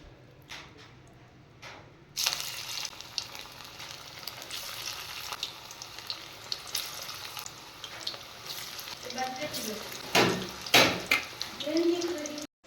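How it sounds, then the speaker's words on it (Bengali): Shrimp fritters dropped one by one into hot oil, a quiet start giving way to a bright, continuous sizzle with bursts of crackle and a few utensil clinks, while someone talks. "এদিকে তেল গরম হয়ে গেছে এবার আমি এগুলো একটা একটা করে ভেজে নেব"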